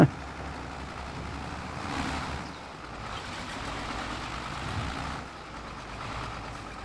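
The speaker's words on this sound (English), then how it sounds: "Once it gets going, though, it's a good truck." An old GMC Jimmy truck engine runs at a distance outdoors during a harvest, a fairly quiet rumble that swells and eases a few times, with no voices.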